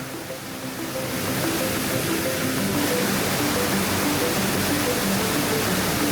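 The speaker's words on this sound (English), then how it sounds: "Rather than one giant waterfall, the falls are a series of smaller cascades." Small waterfall cascades near Luang Prabang, Laos, pour as a steady, dense broadband rush of water that swells in the first second and then holds constant and close, with no voices.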